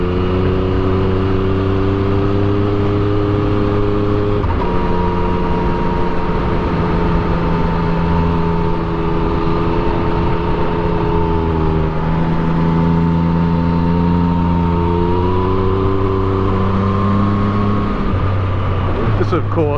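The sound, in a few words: Yamaha MT-09 motorcycle engine while riding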